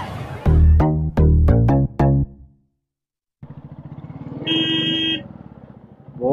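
A motorcycle is started and ridden, opening with a quick run of loud, sharp revving bursts, then a short silence before a steady engine drone rises and continues to the end.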